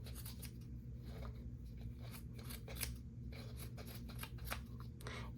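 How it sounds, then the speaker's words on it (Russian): Small scissors trim the fabric of a handmade Christmas ornament with quick, faint, repeated snips at an uneven rhythm, heard up close and quiet over a steady low hum. "И теперь поворачиваю ножницы на 90 градусов и также все вот подрезаем."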